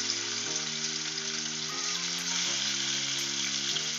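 Rohu fish pieces rubbed with salt and turmeric fry in a little hot oil, producing a continuous, even sizzle under soft background music.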